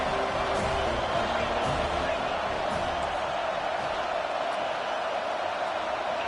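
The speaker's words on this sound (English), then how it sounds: "Decibels rising as the crowd gets behind this defense on third down." A steady, loud roar from a stadium crowd fills an American football video game on a third-down play, holding constant as an unbroken wash of noise.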